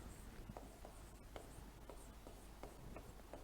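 Marker or chalk strokes on a board during a class, as a teacher writes out vector product notes: faint, steady scratching with short, repeated tapping strokes and no voice.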